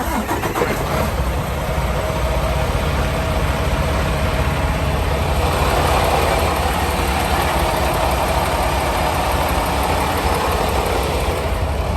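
A semi truck's large diesel engine idles steadily on remote start, a constant low rumble with a faint high whine, running alone without any talk.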